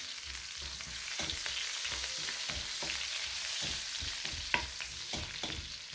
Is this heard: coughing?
no